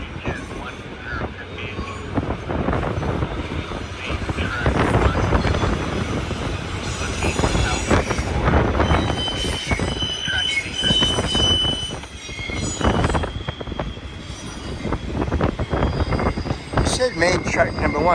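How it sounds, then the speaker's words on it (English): A BNSF cargo train rolls past on main track number 1 near the old Cajon depot site, with continuous rumbling, clattering wheels and occasional squealing, and people talking over it throughout. "This train's on main track number 1."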